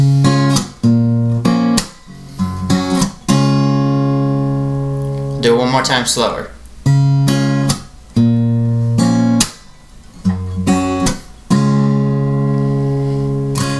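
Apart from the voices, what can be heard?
acoustic guitar plucking chord strings together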